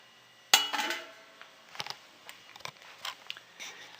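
Metal lid set back onto a cooking pot holding beef tongue, one sharp clank followed by lighter scraping and clinking as it settles, close and without talk.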